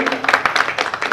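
Audience applause at an award ceremony, a steady patter of many hands clapping at close range, filling the short stretch without talk.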